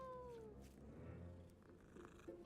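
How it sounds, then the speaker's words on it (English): A cat meows in the Hogwarts Legacy video game, a single drawn-out meow with a falling pitch followed by a shorter second call, heard close and fairly quiet over soft background game sound. "Oh, it's a cat."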